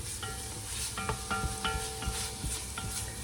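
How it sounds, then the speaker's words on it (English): Chopped garlic and onions are stirred in a pot, giving a soft continuous sizzle with light scraping and tapping strokes of the spoon. "As soon as you add the garlic in, start stirring."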